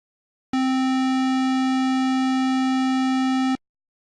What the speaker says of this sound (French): Si on règle l'intensité de la modulation à 0, on entend une onde carrée pure.